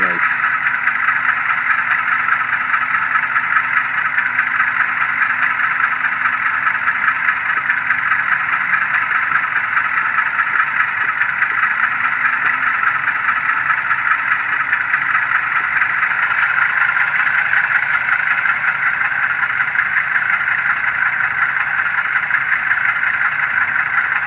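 Bowser HO-scale U-25B diesel model locomotive in Pennsylvania livery, running with a sound decoder, gives off a steady, continuous engine drone that holds throughout at an even level with no pauses.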